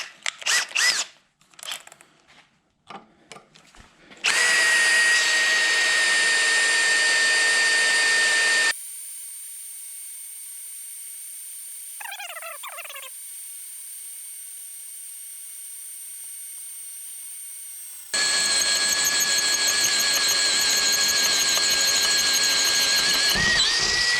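DeWalt drill driving a Matco Hyper step drill bit through metal, a loud, sustained high whine and grinding that runs several seconds, pauses to a quieter hum with a brief squeal, then resumes loudly to the end.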